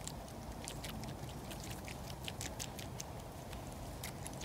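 A water bottle is shaken, giving faint, rapid sloshing patters and ticks in a quick irregular rhythm over a soft steady background, with no talk.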